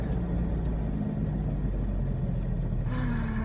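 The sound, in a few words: car driving on a bumpy road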